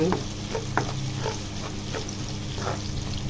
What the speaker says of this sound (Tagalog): Pagkalagay natin ang ating ginger, halu-haluin lang muna yan